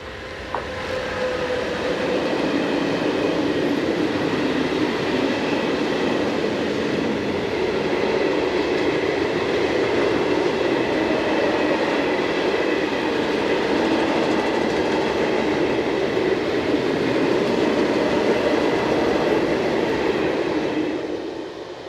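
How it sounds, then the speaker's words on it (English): A northbound freight train hauled by electric locomotive 185516 rolls past on a German main line, a loud continuous rumble of wagons with wheel clatter that fades at the end. "we see 185516 once more, again on the 23rd of September, with this northbound freight for Peine"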